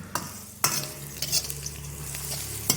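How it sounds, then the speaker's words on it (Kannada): Onions fry in a pan while being stirred for a Nati-style chilli chicken: a steady close sizzle broken by a few sharp scraping clatters of the stirring spoon. "ಈರುಳ್ಳಿ ಬ್ರೌನ್ ಆಗೋವರೆಗೂ ಫ್ರೈ ಮಾಡ್ತಾನೆ ರೀ"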